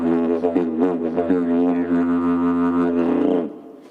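A didgeridoo drones with a deep steady fundamental and shifting overtones, played with circular breathing, loud and close, sustaining without a break for several seconds before stopping.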